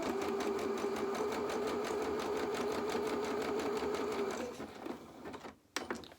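A sewing machine neatening the seams of doll pyjama bottoms whirs in a fast, even, close run for about four seconds, then slows and stops, followed by a few handling clicks.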